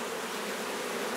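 A good-sized honeybee colony living inside a trunk makes a dense, continuous buzz, close and steady, with no voices.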